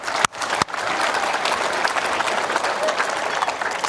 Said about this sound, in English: we can applaud Justin